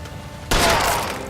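Gunfire in the LA Noire video game, a sudden loud crack that bursts in after a quiet moment and rings out with a brief noisy tail.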